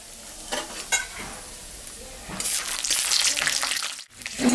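Peanuts fry in mustard oil in a wok: a few scraping stirs over a low sizzle, then the frying swells into a loud, dense hiss before briefly dropping away near the end.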